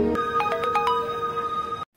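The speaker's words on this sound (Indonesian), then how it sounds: "notifikasi dari HP ayah Pradev berbunyi" A mobile phone plays a short chiming notification tone, a quick run of bright, rising electronic notes over a sustained tone, clear and close, then cutting off abruptly.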